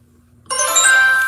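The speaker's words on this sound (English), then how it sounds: "That was my phone." A mobile phone ringing, with near silence giving way to a sudden bright chiming ringtone that starts loud and continues steadily to the end.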